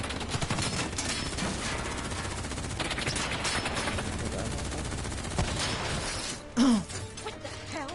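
Rapid gunfire from the Black Ops 3 video game, bursts of shots packed densely across the whole stretch with a sharper crash near the end, loud and continuous with no talk.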